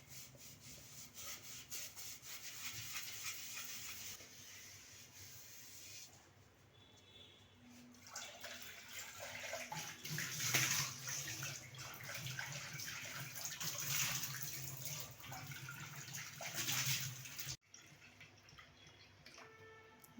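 Continuous wet scrubbing of a clay pot with a sponge under running water, rising and falling in intensity, close up, with a brief pause near the end.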